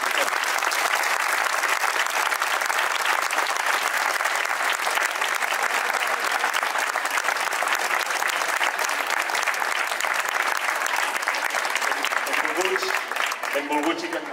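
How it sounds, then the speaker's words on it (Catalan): Loud, sustained applause from a festival crowd at the Festa Major of Vilablareix in 2022, steady and full throughout before a proclamation speech, with a voice faintly starting up as the clapping tails off at the end. "li fem un bon aplaudiment"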